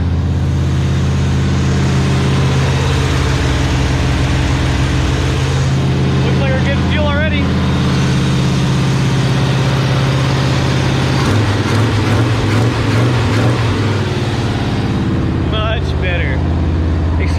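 A 1968 Chevy Bel Air V8, revived after sitting for eight years, idles with a steady, loud low rumble that holds throughout, and a voice is heard briefly over it.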